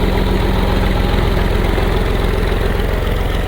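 A Honda 125 motorcycle stands idling in a village wheat field, its single-cylinder engine thudding in a fast, even, close pulse that stays steady throughout with no voices.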